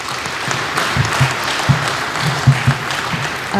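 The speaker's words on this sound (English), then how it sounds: "Can we please have a round of applause for our panelists?" A room applauds panelists at a young professionals group event, a sustained wash of clapping with several louder, closer claps standing out near the microphone.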